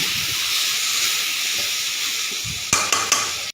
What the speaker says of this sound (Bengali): জল দিয়ে দিয়েছি, ফুটছে।